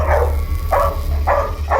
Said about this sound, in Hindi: कुत्तों का लीडर है ये।